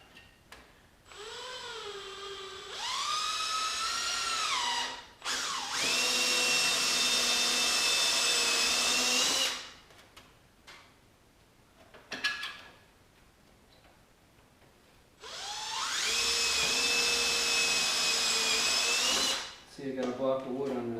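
A power drill bores through a metal patch resting on a block of wood. It plays as long, loud whining bursts that rise in pitch as the motor spins up, separated by quiet pauses and brief clicks.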